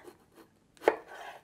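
A knife slices through a cucumber into half moons on a cutting board, with a few soft cuts and then one sharp, close chop.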